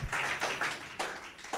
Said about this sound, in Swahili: Makofi mpigie.